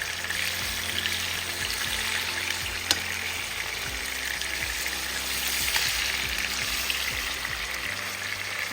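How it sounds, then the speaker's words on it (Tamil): Peri peri chicken frying in oil over medium heat gives a soft, even hiss of bubbling oil with faint crackles and an occasional small tap, moderately quiet and unbroken throughout. "மிதமான சூட்டில் வறுக்கலாம்"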